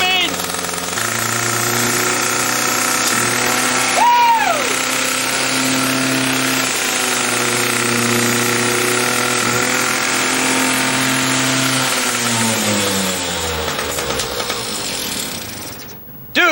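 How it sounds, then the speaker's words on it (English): Motorcycle engine revved hard and held at full speed, a loud, continuous mechanical roar with steady harmonic drone and rattling, one brief pitch sweep midway, dropping at the end. "Give it revs. Full speed."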